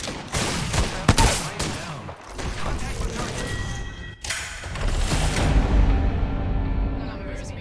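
Rapid bursts of gunfire in an arena shooter video game, crackling shots and thuds clustered at the start, then a heavier sustained barrage rising near the end, loud and close.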